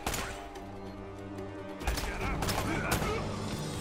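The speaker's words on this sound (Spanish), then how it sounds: "disparo a la cabeza otra vez" Gunshots in Uncharted 1 near a crashed plane: a fusillade of sharp shots and impacts over a busy game soundscape with music, and the pace picks up midway.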